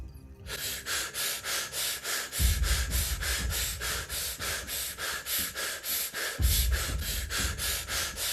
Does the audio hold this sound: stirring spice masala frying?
no